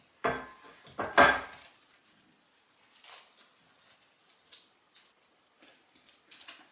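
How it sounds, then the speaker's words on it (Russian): A spoon stirs freshly boiled milk into a hot gingerbread dough mixture in a bowl, giving a few loud clinks and scrapes at the start, then softer, scattered clinks. "Выливаю 500 миллилитров только что закипевшего молока. И начинаю все быстро перемешивать."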